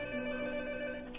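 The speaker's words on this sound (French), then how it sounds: "c'est le téléphone sur une autre ligne." A telephone on another line rings in a brief, steady tone heard over a phone connection, continuous through the moment with no talk.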